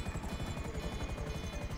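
Damaged helicopter in the video game GTA Online, a steady rotor drone with rhythmic low thumping blade chop throughout, loud and close with no talking.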